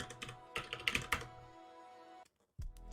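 Quick bursts of keystrokes on a computer keyboard, several close clicky taps in a cluster, a brief pause of silence, then another key press, quiet and near.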